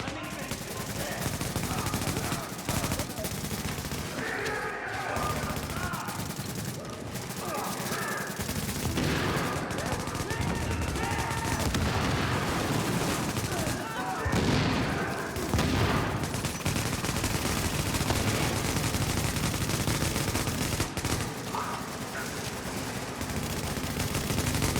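Rapid automatic gunfire from a video game plays loud and continuous, a dense unbroken barrage of shots lasting throughout.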